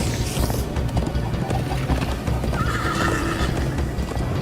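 A horse in the Minecraft Story Mode video game gallops with steady clip-clop hoofbeats and lets out a loud whinny partway through, all close and busy against a full game soundscape.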